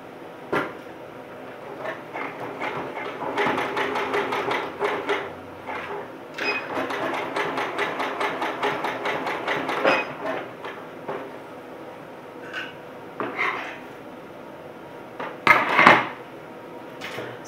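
A home sewing machine runs a narrow zigzag stitch across the top of a cage crinoline casing, heard as bursts of rapid mechanical clatter separated by short pauses, followed by a few handling knocks and clicks near the end.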